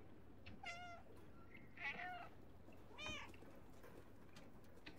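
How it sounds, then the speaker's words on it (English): A cat in a basket meows three times in short, separate calls, close by but quiet against a faint background hum. "Kitty in a basket!"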